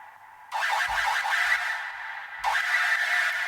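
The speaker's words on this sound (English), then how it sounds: "like a sort of screechy sound" Screechy synth lead built from two simple saw waves in a dream hardcore, modern gabber track, harsh bright tones running steadily across the clip, with low kick thumps below and a fresh loud attack near the end, no voices.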